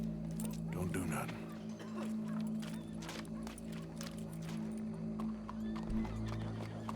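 Horse hooves clip-clop in Red Dead Redemption 2, a steady mid-distance clatter under game music and a low hum, with people talking over much of it.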